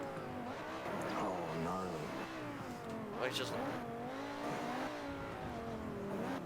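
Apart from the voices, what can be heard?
V10 race car engine revving up to 9,000 rpm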